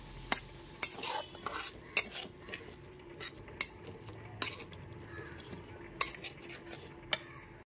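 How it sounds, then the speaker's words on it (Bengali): Ground spices for a lentil and meat khichuri being stirred and fried in a pan over low-to-medium gas, with a splash of water. The spoon scrapes and clinks at irregular intervals over a soft, steady sizzle, close and moderately quiet. "সমস্ত গুঁড়ো মশলাটা খুব ভালো মতো কষিয়ে নিচ্ছি।"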